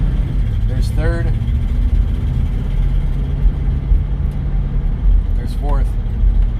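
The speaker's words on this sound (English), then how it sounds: "We're gonna go through the gears." A 1959 Cadillac engine hums steadily from inside the car while driving and shifting up through the gears, a low continuous drone with brief rises between shifts, under someone talking.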